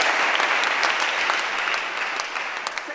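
A congregation applauds during a French-language sermon, a dense, steady burst of clapping from many hands that fades slightly toward the end, with no voices over it.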